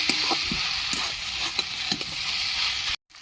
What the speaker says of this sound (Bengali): ভালো করে আমি মিশিয়ে নিচ্ছি পোস্তটা শাকের সাথে